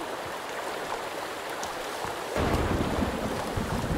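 Rain falls near a lake in the video game Sons of the Forest, a steady hiss that swells abruptly into a heavier, louder downpour with low rumbling partway through.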